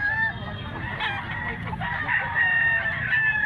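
A blue-legged rooster crows nearby in Mantalungon, Cebu, a long strained call over a busy background, with a second bird calling faintly.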